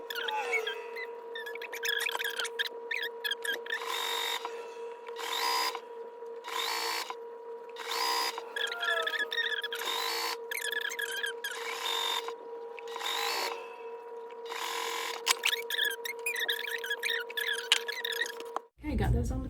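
A sewing machine stitches background squares to quilt blocks in repeated short bursts of fast mechanical whirring, separated by brief pauses, over a steady tonal hum, close and fairly loud.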